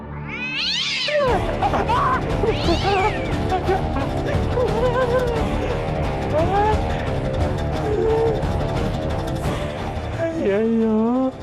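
A cat meows and yowls repeatedly in drawn-out, wavering cries, close and loud, with a dramatic music bed running underneath throughout.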